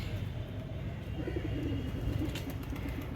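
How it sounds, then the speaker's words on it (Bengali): Pigeons coo softly on a sunny rooftop, a steady low burbling from several birds at close range, continuous and unbroken, with faint outdoor background noise. "দেখো কত কবুতর, দেখো দেখো দেখো"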